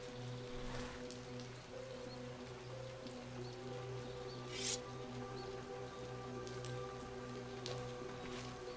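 Steady rain falls in a video game bear fight, a soft constant hiss with droplet patter across the whole stretch, over a low sustained ambient drone of game music, with one brief brighter splash midway.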